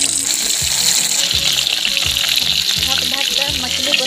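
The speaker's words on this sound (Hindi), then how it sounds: "अब मछली तलेंगे।" Fish fries in smoking-hot oil over a high flame, a steady loud sizzle and crackle running throughout with faint low clatter underneath.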